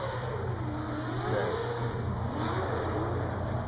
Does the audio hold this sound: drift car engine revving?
yes